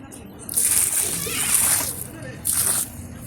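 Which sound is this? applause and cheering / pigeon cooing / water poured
water poured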